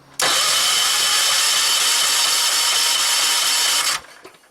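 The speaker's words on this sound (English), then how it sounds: "Should be enough gas in the carb just to see if it'll start." A Terramite machine's engine cranks over on its starter with only a little fuel left in the carburetor, a loud steady whirring grind lasting about four seconds before cutting off, close and alone.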